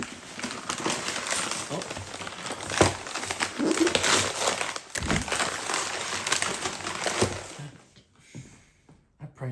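Gift packaging for a Veto DP3 is ripped and torn open by hand, giving sustained close crinkling and crumpling with sharp rips, then falling quiet near the end.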